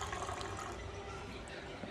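Water pours steadily into a cooking pot for boiling, a continuous broadband splash and fill that lasts the whole moment, fairly close and moderately loud. Faint voice-like sounds may mix in under it.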